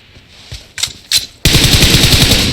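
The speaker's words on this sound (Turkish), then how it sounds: "Ne sıkıyorsun lan sen bana?" Automatic gunfire in the PUBG Mobile battle royale game: a few sharp separate shots, then a sustained rapid burst that stays loud and close to the end.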